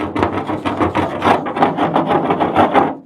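Old coating is scraped off with an improvised scraper, a close, loud run of rapid rasping strokes with a steady rubbing rhythm.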